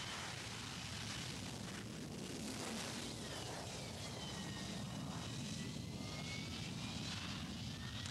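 Harrier jump jet engine roaring steadily during a vertical landing, a loud continuous jet blast with a whining high tone rising and falling over it, close and unbroken throughout.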